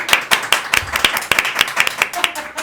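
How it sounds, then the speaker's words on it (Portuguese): A single person claps hands in a small indoor podcast setting, about a dozen sharp, close, slightly uneven claps in a steady rhythm, with faint voices underneath. "só uma pessoa bateu palma"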